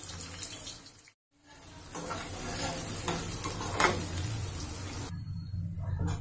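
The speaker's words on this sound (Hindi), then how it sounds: "ये हमने कढ़ाई में 80 ml ऑयल ले लिया है। इसमें हम 1 बड़ी प्याज ब्राउन करेंगे, गोल्डन ब्राउन करेंगे हम।" One large onion is browning in 80 ml of oil in a kadai, giving a continuous, close sizzle with some stirring scrapes. A short silent gap comes early, then the frying continues steadily.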